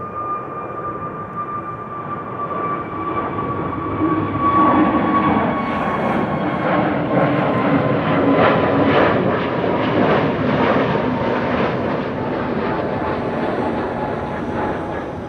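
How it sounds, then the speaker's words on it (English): A Boeing Dreamliner jet takes off at Amsterdam Schiphol bound for Atlanta, its steady loud engine roar and rising whine building and holding throughout, heard alone without voices. "That's a Dreamliner to Atlanta. Should also be taking off from the Kaagbaan pretty soon."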